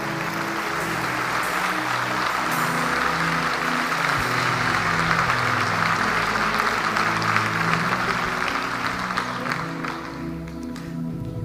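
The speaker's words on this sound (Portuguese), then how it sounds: "Dar um aplauso ao Senhor neste lugar." A church congregation applauds, sustained dense clapping from many people that carries on for several seconds and then thins slightly toward the end.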